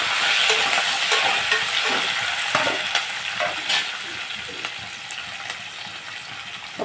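Curry leaves dropped into hot oil in a pan for upma, sizzling and crackling steadily up close, with a loud start that settles into a continuous fry, and no voices.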